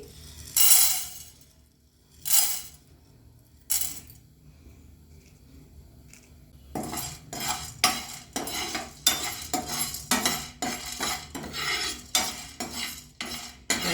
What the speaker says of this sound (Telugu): వెల్లుల్లిపాయ నాలుగు ఎండుమిర్చి ధనియాలు జీలకర్ర కొన్ని పల్లీలు నువ్వులు శనగపప్పు కలమాకు కొత్తిమీర అండి వేయించుకుందామండి